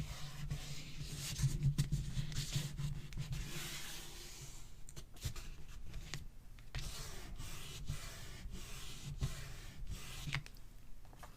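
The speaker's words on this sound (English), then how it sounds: "Burnish it in as best as we can." Steady scratchy rubbing as washi tape is burnished down onto a handmade travel book, a continuous close friction sound with brief pauses and shifts in pressure, no talking.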